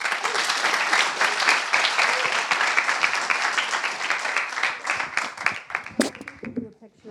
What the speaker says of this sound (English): please give us a round of applause in introducing Jess and Shervin